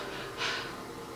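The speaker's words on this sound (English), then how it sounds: "You might fall prey to panting like this." A person demonstrates panting from shortness of breath, giving one quick, sharp, breathy exhalation that is close but fairly faint against a quiet background.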